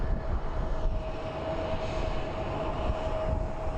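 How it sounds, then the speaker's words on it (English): American Airlines flight 2333, an airliner bound for Newark, passes over a bridge near Phoenix Sky Harbor airport, its engines a steady, broad roar with a faint whine held evenly for the whole stretch. "up next we will probably have American Airlines 2333 that's going to be headed to Newark, that is making its way over"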